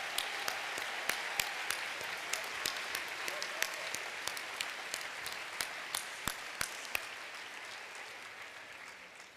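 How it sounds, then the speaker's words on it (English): Sustained applause from a commencement audience honouring standing faculty members at a social work graduation ceremony, a steady wash of many hands clapping with sharper individual claps popping out near and far throughout. "We're going to applaud them again and show our appreciation for all the excellent education."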